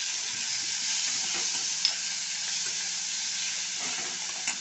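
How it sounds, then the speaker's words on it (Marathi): Chopped tomatoes with garlic sautéing in a hot pan for eggplant bharta, a steady bright sizzle and hiss with occasional stirring scrapes, close and continuous without speech. "आणि आपलं ही टोमॅटो टाकते आणि हे पण जरा 2 मिनटं मी चांगलं परतते"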